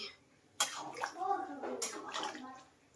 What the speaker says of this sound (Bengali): জল দিয়ে দিলাম এবার ঢেকে দেব